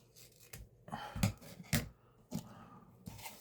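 Scissors snip through silk ribbon while making fabric roses, giving three or four sharp, close cuts with quiet pauses between them.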